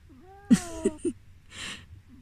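An old cat gives a few short meows, close by, with a quiet breathy sound afterward and low background hum.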